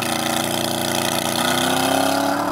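A Corvette Z06 V8 launches from a standstill in a 0 to 60 run, giving a loud, steady engine roar that holds for the whole stretch with no voices.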